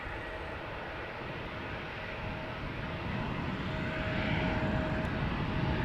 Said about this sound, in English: Next up, KLM Embraer 175 going to Gothenburg